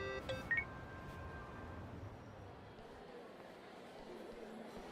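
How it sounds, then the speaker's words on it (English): A phone dials in the video game Yakuza: Like A Dragon, with a quick run of electronic keypad beeps at the start, then a quiet background murmur with faint voices. "Kasuga, call me on your phone."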